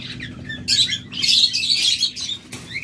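Lovebirds at a bird farm chirp and tweet in bright, overlapping bursts, with a steady background hum and a short quieter pause before the calls pick up again.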